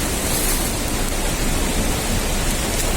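Walnut-sized hail pours down in Diyarbakır in May, a dense, continuous roaring hiss of stones striking surfaces, loud and unbroken with no voices.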